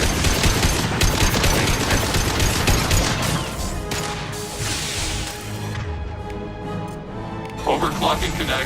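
Gunfire in the Mass Effect 2 video game: dense, loud rapid bursts of shots and impacts, with voices talking over the battle noise and firing thinning out toward the end.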